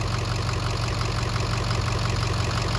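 Diesel truck engine running steadily in reverse under a power brake test, checking injection pressure for a suspected high-pressure oil leak; a loud, continuous, even rumble fills the whole stretch with no voices.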